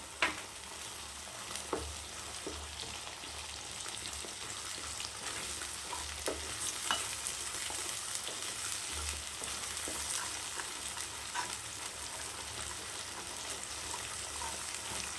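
Ground spice paste fries in hot oil for a carrot beetroot gravy, an even sizzle running throughout with occasional scrapes and taps of a spoon stirring, close and steady, no voices.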